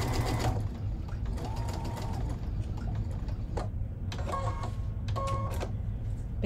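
A sewing machine stitches a seam on a strawberry costume, running in steady whirring bursts with brief pauses and clicks between runs, close and clear, with no speech over it.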